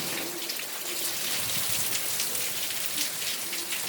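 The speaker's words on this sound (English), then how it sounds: "Look at that hail." Hail pelting outdoor surfaces and a chair during a hailstorm in Hemet, a dense, steady patter of ice hitting hard objects that stays loud throughout with no talk.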